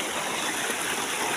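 A river flows through a forest, a dense, steady rushing hiss of water heard close and continuous with no voices.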